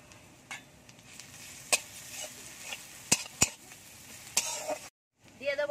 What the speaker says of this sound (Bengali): দিয়ে দেবো রসুন বাটা,